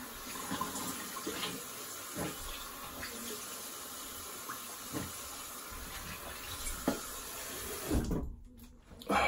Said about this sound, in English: I'm just gonna rinse a bit.